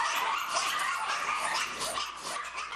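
Many dogs barking together at a puppy mill raid, a dense, continuous chorus of overlapping barks and yips, loud and close, with no talk.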